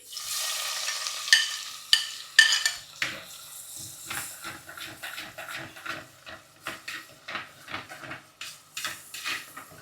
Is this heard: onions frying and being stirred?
yes